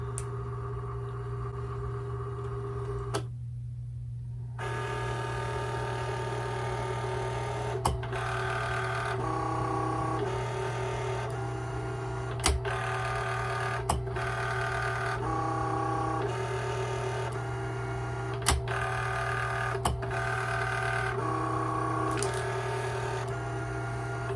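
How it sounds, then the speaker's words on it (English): A small LIENE PixCut S1 sticker printer and cutter whirs and buzzes steadily over a constant hum, its motor pitch shifting in repeated passes with periodic clicks as it cuts out photos. "and then it's going to go back in, and it's going to cut out our photos."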